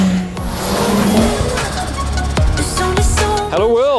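A Peugeot 205 Rallye engine revs hard and loud while being driven flat out, rising and falling in pitch with quick throttle blips amid road and wind noise.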